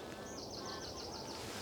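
A pair of Canada geese gives a faint, distant series of repeated honks, about six evenly spaced calls, heard through steady outdoor background noise in fen woodland.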